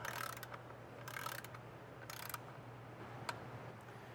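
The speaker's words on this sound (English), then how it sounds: "So last step underneath the truck here is torque all the bolts to spec." A torque wrench ratchets as 10 foot-pound bolts are tightened on a TH400 transmission pan under an OBS truck, with faint, quick clicking bursts at intervals and a sharp click near the end, over a low steady hum.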